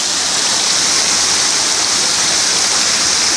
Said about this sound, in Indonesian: yaitu air terjun 7 Bidadari